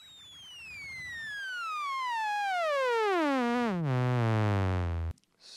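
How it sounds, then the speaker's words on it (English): Lowstepper synth module oscillator sweeps steadily downward in pitch as a bright, buzzy tone rich in harmonics, with aliasing artifacts building as it falls, ending abruptly after about five seconds; no talking. "It's got some fun aliasing up here."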